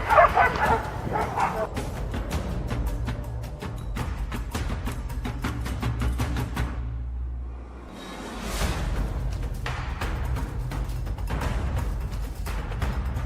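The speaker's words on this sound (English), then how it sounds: "The barking of the hunting dogs grew louder, echoing through the mountains." Hunting dogs on a wild boar hunt bark and yip loudly and repeatedly in mountain terrain. The barks come in rapid overlapping bursts, briefly ease off, then return just as intense.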